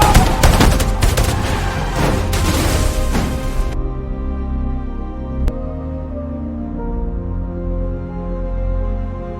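Heavy gunfire in a movie bank-robbery chase, a dense burst of rapid shots and booms for several seconds that cuts off abruptly, followed by a lower rumbling tail and one more sharp crack.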